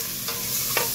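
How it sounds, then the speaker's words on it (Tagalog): Shrimp and other seafood sautéing in a pan for Chinese lomi, a steady hiss of frying with two brief stirring scrapes, close and moderately loud, no talking. "Tinggisa na para lang maalis ang kanyang lansa."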